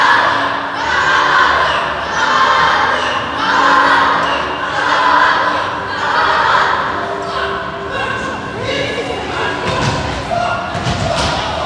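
A group at a police department's Lunar New Year celebration claps together and cheers. Voices swell in rhythmic waves, then a burst of loud thumping claps comes near the end.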